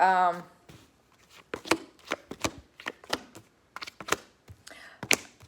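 Tarot cards shuffled by hand with a loose, slipping technique, giving a string of crisp close-up slaps and riffles at uneven intervals, with a short voiced sound at the start.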